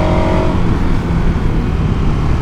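A KTM 1290 Super Adventure V-twin motorcycle being ridden, its engine a loud, steady, low rumbling drone mixed with wind noise, close and continuous with no talk.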